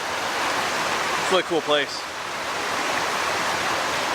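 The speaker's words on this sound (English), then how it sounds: "you have a lot more of these little waterfalls and rapids." Small waterfalls and rapids along a rocky, rugged trail stream at a nature preserve, a steady broadband rush throughout, with a person briefly speaking over it midway.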